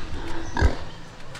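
One short, low pig grunt rises briefly from a steady background murmur at an early-morning livestock market in Antique, Philippines.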